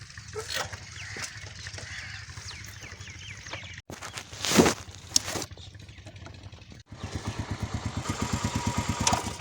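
A new motorcycle's engine runs throughout, with bird honks and noise in the middle, then a steady rhythmic engine chugging near the end.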